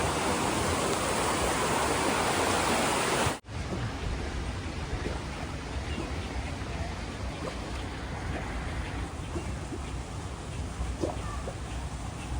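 A steady rush of flowing water from Spearfish Creek at a fish hatchery fills the whole clip, broken by a brief dropout near the start, with no voices.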